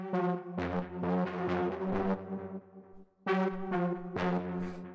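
A loud, harsh dark industrial techno synth lead at 134 BPM plays a busy, chaotic phrase of rapid notes, breaking off briefly near the end before surging back in.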